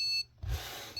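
Tamagotchi RE-Connection toy emitting short, high electronic beeps, a quick pair of tones separated by a brief gap, close and fairly quiet.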